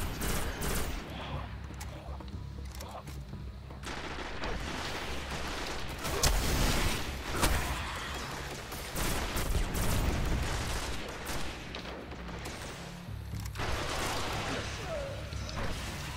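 Gunfire in the Destiny beta, a shooter game, rattles through a busy combat mix of repeated shots and impacts, with a voice talking in places over the steady din.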